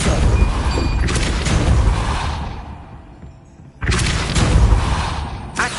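A Depulso spell cast in the Hogwarts Legacy video game lands as a loud booming whoosh, followed by a brief lull and then a second heavy burst of rushing impact noise, close and full.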